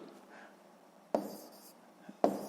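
A pen or pencil writes numbers by hand during a long-division exercise, with soft scratchy strokes and two sharper taps against the paper, heard close up in a quiet room.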